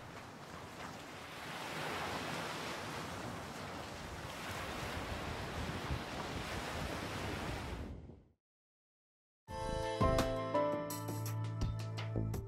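Steady wash of surf breaking on a sandy beach in a Marquesas bay, with wind noise on the microphone, running continuously for about eight seconds before a pause and a shift to another sound.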